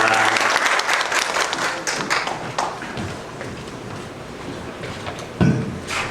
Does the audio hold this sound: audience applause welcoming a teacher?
yes